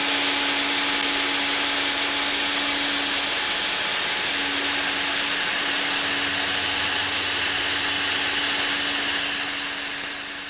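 A domestic vacuum cleaner runs steadily and loudly throughout, a constant broadband whoosh with a low motor hum and no talking.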